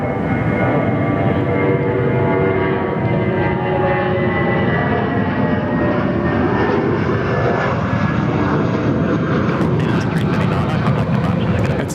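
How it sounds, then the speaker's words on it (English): An Airbus A320 takes off from runway 21 at Perth Airport with a loud, sustained jet engine roar and a slowly shifting whine, while a voice talks over it. "The A320. Start getting airborne there from runway 21."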